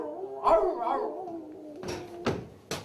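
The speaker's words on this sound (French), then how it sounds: "plus le temps passe, et plus ça lui donne de la force pour hurler, aboyer et gémir" Dog howling a long wavering note, then giving three sharp separate barks, close and fairly loud with no talk.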